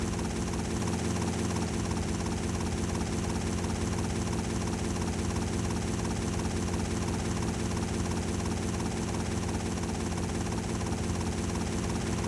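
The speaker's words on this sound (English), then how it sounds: "This stream has been all helicopter." Helicopter in GTA Vice City Stories, a loud constant rotor thrum and engine whine that runs unbroken for the whole stretch, close and dominant with no talk.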